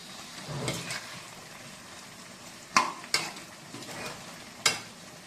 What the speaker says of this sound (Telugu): చూడండి ఎలా వస్తుంది ఫ్రై.